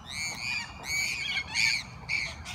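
Parrots in a park, a large flock packing the tree branches, squawk loudly in repeated harsh bursts about every half second, close and continuous, with no talking.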